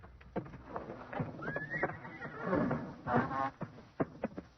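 Horses in barn stalls whinny and shift with hoof clops, fairly faint and mixed with a rustling background.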